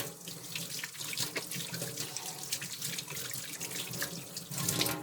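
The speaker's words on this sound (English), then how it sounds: "let me go ahead and wash my hands real quick over here" Tap water runs steadily into a sink while hands are washed beneath it, a close continuous splashing rush that swells slightly near the end, with no one speaking.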